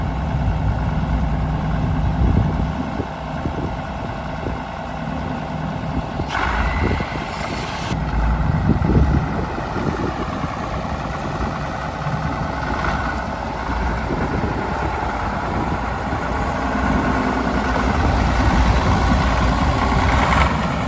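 An old Case 1070 tractor engine runs steadily as the machine drives off, a continuous low diesel rumble with small swells in load, heard up close throughout with no speech.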